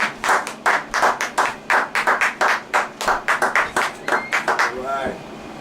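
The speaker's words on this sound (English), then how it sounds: "We're going to clap it up tonight" Rhythmic group clapping at an evening talk-show gathering, sharp distinct claps in a steady beat at close range, breaking into a quicker flurry before a voice starts talking at the end.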